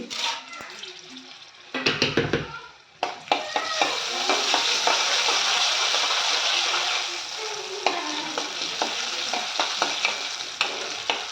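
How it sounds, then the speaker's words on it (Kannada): Broken dried red chilies, chana dal and urad dal fry in hot oil with a loud, continuous sizzle after a burst of crackling as they hit the pan, with stirring clinks throughout. "ಈಗ ಎಣ್ಣೆ ಕಾಯ್ದದ್ರಿ ಈಗ ಇದ್ರೊಳಗೆ ನಾನು ಒಣಗಿ ಮೆಣಸಿನ್ಕಾಯಿ ಹಾಕೋತಿದ್ದೀನಿ ರೀ"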